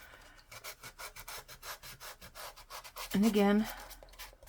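Steady back-and-forth rubbing of a sanding block on a stamp surface to make it accept ink, repeated strokes in even rhythm, close by, with a brief spoken phrase near the end.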